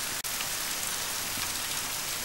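Rain falling steadily on surfaces, a dense even hiss of drops throughout, moderately close, with no talk.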